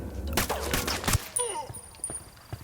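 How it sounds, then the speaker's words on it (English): Gunshot in Ghost Recon Wildlands: a cluster of sharp broadband cracks in the first second, then quieter game ambience with faint background voices. "Must have heard the gunshot."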